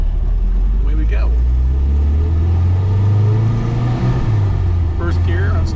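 A 1970 MGB GT's engine rumbles loudly and revs up while accelerating in first gear, with the low drone climbing steadily in pitch from close by.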